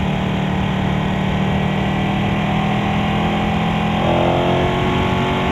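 Engine of a 2015 Ducati 899 Panigale on a test ride: a loud, constant, close engine drone with a slight rise in pitch toward the end, with rushing wind noise throughout.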